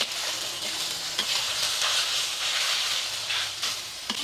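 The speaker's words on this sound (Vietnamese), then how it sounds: "Mình sẽ đảo đều." Beef chow fun, soft rice noodles with a splash of soy sauce, stir-fried over high heat in a pan: a steady loud sizzle and hiss with scraping stirs throughout, no voices.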